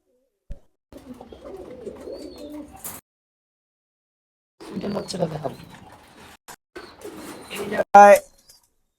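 Soft, low pigeon coos come in short bursts with pauses between, close by, along with a few sharp knocks near the end.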